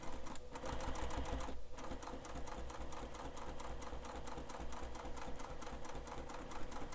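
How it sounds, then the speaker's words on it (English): A sewing machine back stitches along the top of a Heartbreaker wallet, chattering in a fast, even stitching rhythm throughout with a brief slowdown near the start, fairly quiet and close. "I'm back stitching at the top."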